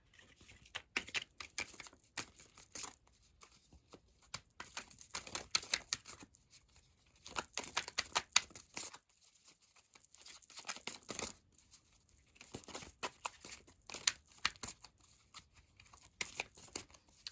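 Tarot cards being drawn and handled, with soft crisp shuffling, flicking and papery slaps in irregular bursts, faint and close, with short quiet gaps and no talking.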